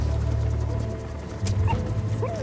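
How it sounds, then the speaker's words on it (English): A young puppy in Metal Gear Solid V: The Phantom Pain whimpers and yips in short, faint bursts over a steady low background hum. "Here's the dog you brought back. Bit of a troublemaker."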